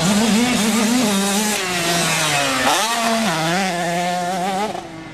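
Motocross motorcycles racing on a dirt track, engines revving loudly and continuously with rising and falling pitch as riders shift through the gears, close by and alone without talk.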